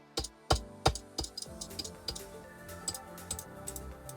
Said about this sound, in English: Listen to my chunky mouse clicks.